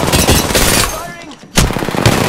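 RE-45 pistol gunfire in a video game: fast, loud bursts of close automatic shots, a short pause, then another rapid burst, with no talk over it.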